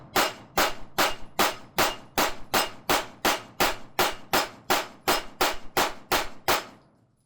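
An Alpha Foxtrot Romulus Comp pistol fed from an extended 140 mm magazine fires about sixteen evenly paced shots, roughly two per second, at a steel target, each report sharp, close and loud with no talking.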